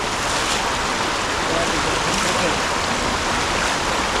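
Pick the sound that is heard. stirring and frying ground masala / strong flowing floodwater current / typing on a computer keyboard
strong flowing floodwater current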